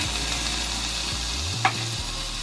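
Saag greens sizzling steadily in a hot pan, a constant close fry hiss with occasional scrapes and one sharp clink of a stirring utensil, no voices.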